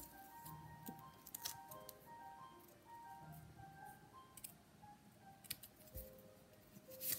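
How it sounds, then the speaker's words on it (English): Scissors snip through cardstock while a Stampin' Up! winter greeting card is made, giving a few short, crisp cuts scattered over quiet background clatter, close but soft, with no speech. "because I messed up, I need to cut this off"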